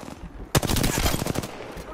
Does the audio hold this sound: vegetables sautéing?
no